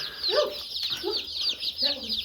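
A batch of about 100 newly hatched baby chicks just arrived by mail, peeping in a dense, high-pitched chorus of overlapping chirps close by, with some voiced cheeps.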